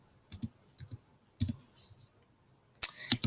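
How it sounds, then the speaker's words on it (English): A computer keyboard is typed on in a few sparse bursts of key clicks with pauses between them, then a sharper cluster of clicks near the end, close and quiet with no one talking. "You're going to type in Miss Dustman."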